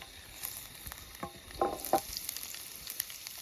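Oil frying in a pan on a campfire stove before noodles are cooked outdoors, a faint steady sizzle with small pops and crackles throughout.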